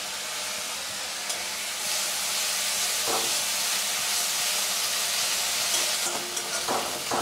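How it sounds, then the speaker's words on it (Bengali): Ginger and green chili paste fries with onions in a pan for a fish egg curry, a loud, steady hissing sizzle with a few soft scrapes as the mixture is stirred, close up and without speech. "পেঁয়াজের সাথে মিশিয়ে নিচ্ছি।"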